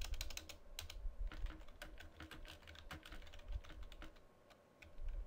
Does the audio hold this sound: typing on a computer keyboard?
yes